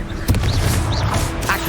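The Confringo blasting spell in Hogwarts Legacy lets off a short, loud, booming burst with a deep rumble, close and filling the brief moment.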